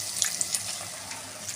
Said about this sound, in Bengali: এবার এর মধ্যে কিছুটা জল দিয়ে দেবো।